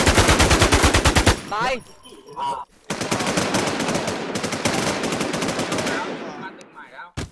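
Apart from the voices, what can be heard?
gunfire in the video game Infestation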